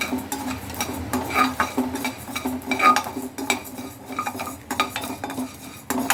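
Kavuni black rice and black urad dal dry roasting in a pan, with frequent scrapes and clinks of a stirring spoon against metal and faint light crackles, close and steady with no talk.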